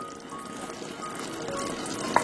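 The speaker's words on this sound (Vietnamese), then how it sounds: "Sốt sôi nhẹ thì mình xếp đậu hũ đã chiên vào." Sauce gently simmering in a pan with fried tofu, a steady soft bubbling sizzle that holds at an even level throughout, close and with no voices.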